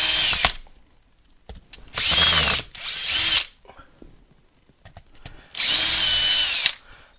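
A power drill backs screws out of a woodturning setup for a monkey puzzle end grain bowl, three loud whirring bursts of one to two seconds each separated by quiet pauses and small clicks.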